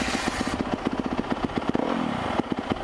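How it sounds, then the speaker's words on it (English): A 2015 Yamaha YZ250F dirt bike engine idles and blips close by, a loud rapid pulsing thump with sharp firing beats and a short rev partway through. "here's my YZ, my new bike. Here's how it sounds."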